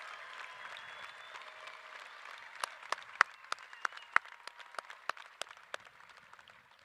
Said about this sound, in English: Let's give them a huge round of applause for this huge honor.